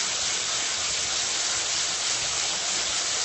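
Tap water runs steadily into a rice washer while buckwheat groats are rinsed, a continuous loud even hiss of flowing water throughout with no breaks.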